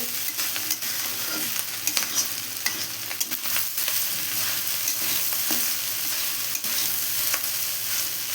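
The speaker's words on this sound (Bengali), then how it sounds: "এটাকে একটু ভাজা ভাজা করে নেবো," Fried rice is stir-fried in a pan over high gas flame: a constant sizzle punctuated by repeated clacks and scrapes of the spatula tossing the rice.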